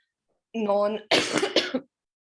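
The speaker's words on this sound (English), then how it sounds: "I'm gonna be coughing from time to time." Two or three harsh, close coughs in quick succession, following a brief hum-like vocal sound, then quiet.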